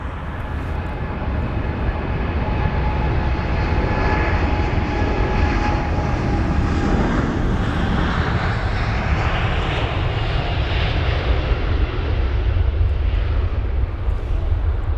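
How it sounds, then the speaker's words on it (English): British Airways Boeing 787-8 departing Heathrow, its jet engines roaring loud and sustained throughout, a broad continuous rumble that shifts in tone as the aircraft passes. "not wasting any time at all is the departing 787"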